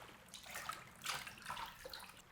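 Water sloshes and splashes in a tub in irregular bursts, close by and fairly quiet, with no voices.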